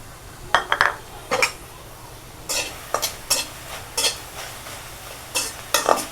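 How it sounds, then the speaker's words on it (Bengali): Dried shutki fish fries in a wok with a little oil under a faint sizzle, as a spatula scrapes and clinks against the metal in irregular bursts of stirring. "এইভাবে শুটকিটা একটু ভেজে নিতে হবে"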